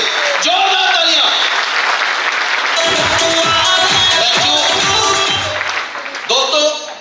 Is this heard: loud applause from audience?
yes